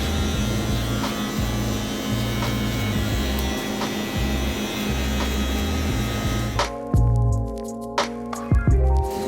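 Hair clippers buzz steadily at close range while fading hair with a guard, then the motor cuts off and soft crunchy snips and clicks follow in the quiet.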